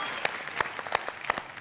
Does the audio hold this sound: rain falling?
no